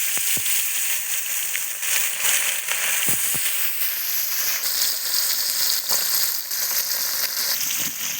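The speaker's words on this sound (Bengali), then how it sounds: "তেল গরম হয়েছে, তেল গরম হইলে বাদা দেখুন আলাদা ধরনের কালার হয়ে যায়। আমি এখন মাছ দিয়ে" Fish fries in hot oil in a kadai for a village-style fish curry with netabetha greens, giving a loud, continuous sizzle dotted with sharp crackles and pops throughout.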